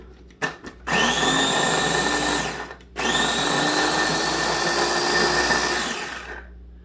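A food processor whirs loudly in two sustained runs, a short pause between them, while blending a Southern-style kale and spinach party dip; a few brief knocks come before the motor starts.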